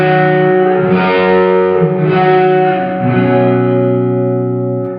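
A guitar runs through a Sonicake reverb pedal at full mix, all wet and no dry signal, with sustained chords swelling into a thick, washy wash of reverb that rises and fades across the clip.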